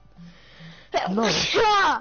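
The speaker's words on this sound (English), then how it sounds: "Oh, that was a big sneeze." A single big, forceful human sneeze bursts out suddenly after a quiet lead-in and is followed by a voice speaking.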